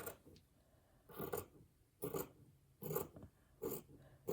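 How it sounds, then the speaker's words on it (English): Fabric scraps are trimmed with scissors in a home decor craft project, producing four or five soft, separate snips at a steady pace, quiet and close with no voices. "let me trim off just a little"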